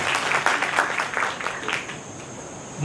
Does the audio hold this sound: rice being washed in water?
no